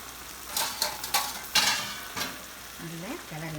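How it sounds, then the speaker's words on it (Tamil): Minced meat and fenugreek leaves stirred in a pan for a keema dish, a series of distinct scraping, sizzling strokes roughly every half second, close and fairly loud, with a voice speaking briefly near the end. "நல்லா கிளறி விடணும்."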